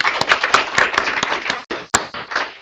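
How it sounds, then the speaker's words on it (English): An audience at a workplace presentation session applauds its presenters with distinct, scattered claps from a modest group, rising and dipping in uneven bursts with short pauses. "Can you give me a round of applause to all of our presenters today?"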